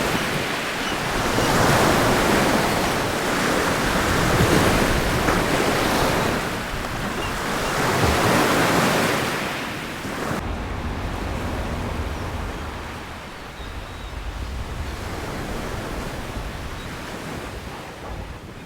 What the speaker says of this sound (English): It's windy out there.